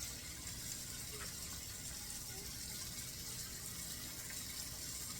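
Scorching hot water runs from a kitchen tap into a sink with baby bottles in it, a steady, moderately quiet hiss and splash that continues unbroken throughout.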